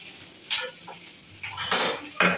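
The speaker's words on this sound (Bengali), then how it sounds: "এটা হচ্ছে লঙ্কা এরকম ভাজতে হবে" Green chillies fry in a pan for a Chicken 65 dish, with a soft sizzle under a few sharp clinks and scrapes of a utensil against the pan, close by.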